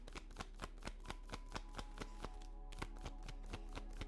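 Tarot cards are shuffled up close in a quick, even run of sharp ticks and snaps, about four per second, with no talking over them.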